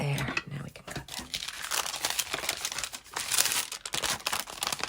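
Paper fast-food ephemera being cut by hand, giving a steady run of close crinkling, rustling and snipping noises with crisp tearing edges and faint handling, continuing without pause across the clip.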